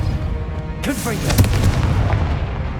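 A Confringo blasting spell goes off in Hogwarts Legacy, a sudden loud boom with rumbling low-end crackle that lingers under voices and battle noise for the rest of the moment.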